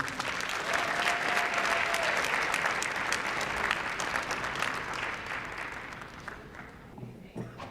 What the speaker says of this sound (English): Let's give a round of applause for Attorney Stevenson.